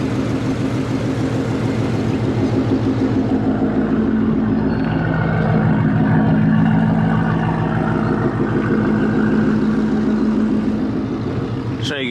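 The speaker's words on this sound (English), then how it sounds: "Show you guys what the GT500 sounds like." A 2021 Ford GT500 running on E85 with new exhaust, headers and pulley, a loud steady throaty rumble close by that swells slightly midway and cuts off at the end.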